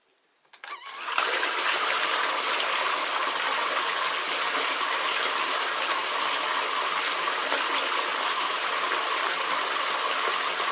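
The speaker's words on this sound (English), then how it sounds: "I'm going to turn the water back on" After a moment of quiet, a tap is turned on and water gushes out in a steady, loud, continuous rush.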